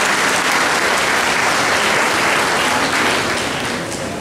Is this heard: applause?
yes